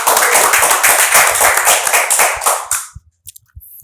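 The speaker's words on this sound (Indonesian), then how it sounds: "Kasih aplaus dulu." Applause and clapping from an audience at a football talk event, loud and dense for nearly three seconds before tapering into a few scattered claps.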